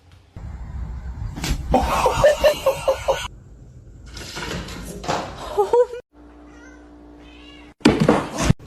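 A kitten meows in short repeated cries amid clattering and bumps, with people talking and laughing in the background and a sharp loud knock near the end.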